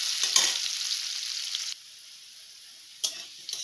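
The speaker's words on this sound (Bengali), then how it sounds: "আলুগুলো ভেজে নেব।" Potatoes frying with salt in a home kitchen pan give a steady close sizzle that cuts off abruptly partway through, followed by a couple of brief sizzling bursts near the end.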